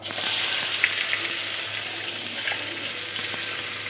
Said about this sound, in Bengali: কেটে রাখা পেঁয়াজগুলো দিয়ে দেব।